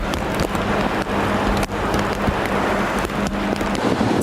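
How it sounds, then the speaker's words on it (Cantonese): Strong typhoon wind from Typhoon Molave sweeps through urban Hong Kong with rain, a loud, continuous roar buffeting the microphone, with gusts swelling and dipping and sharp spatters of rain, no voices. "颱風莫拉菲逼近，市區風勢下午明顯增強"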